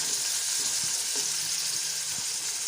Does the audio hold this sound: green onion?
yes